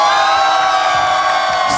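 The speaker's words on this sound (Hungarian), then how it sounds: "Micsoda tömeg!" A large, loud crowd cheers and whoops continuously at an outdoor radio roadshow in Budapest, with dense layered voices and shouts filling the whole stretch without pause.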